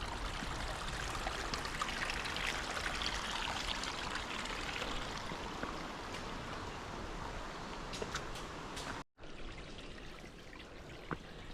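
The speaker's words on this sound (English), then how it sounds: "Look at all that water." Water runs steadily across a rain-soaked hiking trail, a continuous close rushing trickle that holds even for nearly twelve seconds, broken only by a brief dropout near the end.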